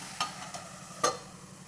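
Red pumpkin pieces are stirred in a pan, a soft low sizzle broken by two or three quick scraping clicks from the spoon, fairly quiet and close.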